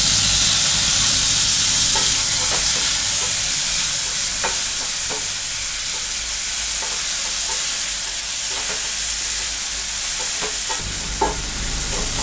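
Onions and tomatoes sauté for a mutton gravy, a loud, constant hissing sizzle with scattered spoon scrapes and taps against the pan throughout, no voices.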